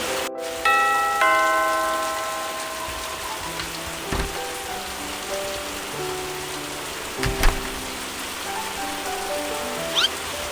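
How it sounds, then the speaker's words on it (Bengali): Heavy cartoon-style rain effect pours steadily outside, a dense even wash with a few scattered drips and faint bell-like tones ringing out near the start. "বাইরে অনেক বৃষ্টি হচ্ছে"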